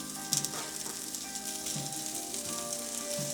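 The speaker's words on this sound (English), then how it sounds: "It's gonna get a slow sizzle to it." Quiet, steady sizzling of smoked sausage slow-frying in a skillet, with a few soft clicks and spatters, close by.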